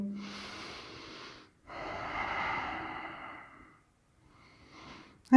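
A person doing yoga breathes audibly near the microphone, one long airy exhale followed by a fuller breath after a short pause, then near silence before a sudden loud burst at the very end.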